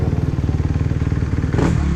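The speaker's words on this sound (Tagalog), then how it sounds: "Rinig nyo yun guys, isang motor" A motorcycle engine, a 600,000-peso racing bike, idles close by with a steady, rapid low thumping pulse and a brief rise in roar near the end.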